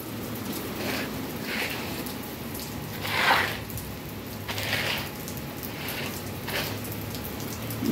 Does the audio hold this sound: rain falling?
yes